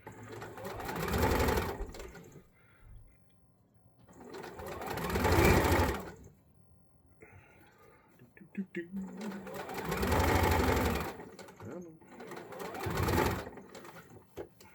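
Sewing machine top stitching a seam on a wrestling mask, running in bursts of rapid whirring stitches separated by pauses, close and clear with faint handling noises between runs.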